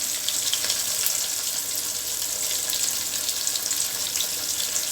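Fish fries in bubbling hot oil with a loud, constant, dense hiss and crackle that holds steady throughout.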